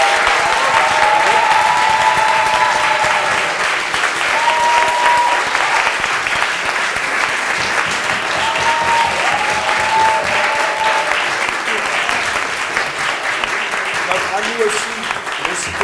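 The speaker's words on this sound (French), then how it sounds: "Je pense qu'on peut aussi applaudir très fort nos oratrices et nos orateurs." A large audience applauds loudly and continuously at a staged mock trial, a dense, sustained roar of clapping with voices faintly under it.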